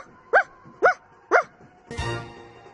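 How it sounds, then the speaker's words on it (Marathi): A dog barks three times in an even rhythm, loud and close, followed by a brief low thud and a fading rumble. "कोणाचं भुंकणं आहे? आठवतंय का या कुत्र्याचं नाव?"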